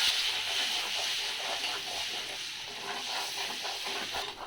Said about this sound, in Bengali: আমি ওই তেলের মধ্যে আর একটু তেল ঢেলে নিয়েছি, আর অল্প একটু বাটার ঢেলে দেবো এর মধ্যে